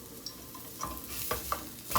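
A Beyond Meat plant-based burger patty fries in a pan with a steady, moderate sizzle, broken by a few soft scraping or stirring clicks near the end.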